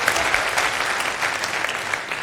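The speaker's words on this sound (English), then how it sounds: "Thank you for that smattering of applause" Light applause from an audience at a tech conference session on open source C#, .NET and Blazor, a steady smattering of claps throughout with no talk.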